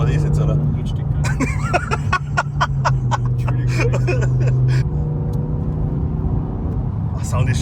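A BMW M6 with its V10 engine and exhaust valves closed idles in a steady low rumble, while people talk over it throughout.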